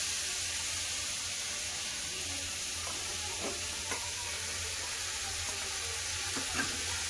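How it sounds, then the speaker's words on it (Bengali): Poppy seed paste fried with vegetables, including ridge gourd, gives a soft, even sizzle and hiss in a pan, with a few faint light stirring taps, quiet and steady throughout. "সবজি দিয়ে পোস্তটা ভালো করে কষে নিয়েছি"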